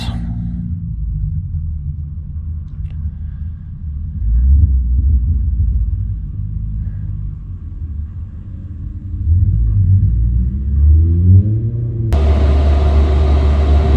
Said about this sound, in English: Okay, diesel heaters powered up.